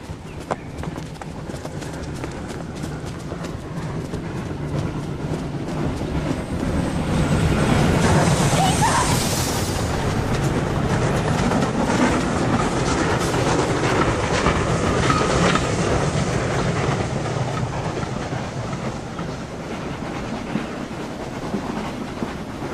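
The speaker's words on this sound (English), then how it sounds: "A train!" A train passes close by, its wheels making a fast clickety-clack over rail joints that swells to a loud rumble midway and stays loud for over twenty seconds, with faint talk underneath.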